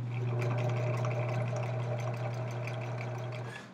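A sewing machine stitches a fabric seam for a garment crotch, giving a continuous close motor hum and rapid needle chatter that runs without pause for a few seconds and then slows slightly at the end.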